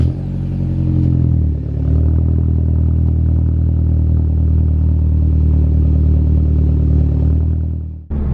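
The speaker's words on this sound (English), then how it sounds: "start her up, give you guys a clip of the cold start" A Saab 9-3 fitted with a new exhaust system fires up from cold, revving briefly at the start and then holding a loud, steady, deep rumbling idle close by before cutting off at the end.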